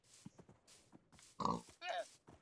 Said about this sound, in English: And there's a pig in my cart.